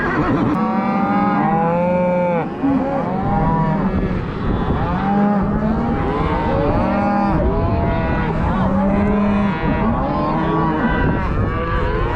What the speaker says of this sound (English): we'll sort some cows and go from there